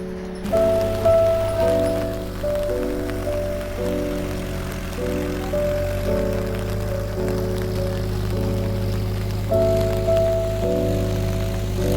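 Steady rain patters on surfaces in a rice field during seedling transplanting, a continuous even wash of drops with a low mechanical hum underneath, no voices.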